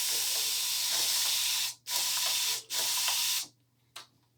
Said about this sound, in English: so I added generous spraying